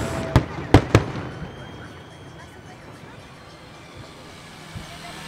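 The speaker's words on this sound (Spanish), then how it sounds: "Hermosísimo lo que hicieron con estos fuegos artificiales" A New Year fireworks display at Viña del Mar: three sharp, loud bangs in quick succession, then a rumbling crowd-filled ambience with faint distant pops.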